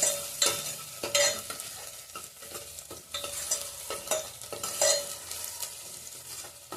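Onion and garlic frying together in a pan over raised heat, stirred with repeated scraping strokes that come in uneven bursts over a soft sizzle, close by and with no voices.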